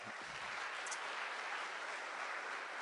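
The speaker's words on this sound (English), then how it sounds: "How about another round of applause for Charles?" Steady applause from a Ruby conference keynote audience fills the whole stretch as an even, dense wash of clapping, with no voices breaking through.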